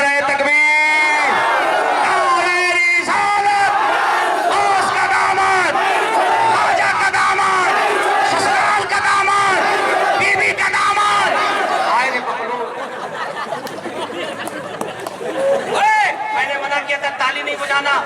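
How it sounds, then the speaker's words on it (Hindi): A crowd at a rally in Semari chants and shouts the Takbir slogan in loud unison, voices surging together with raised energy throughout and easing somewhat toward the end. "जरा हाथ उठा के नारा लगाओ, नारे तकबीर"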